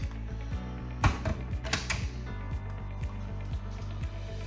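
A garage roller shutter recessed into the ceiling of a DIY man cave runs with a steady low mechanical hum and repeated gear-like ticks, plus a few louder clunks and rattles near the start, heard close up without talk.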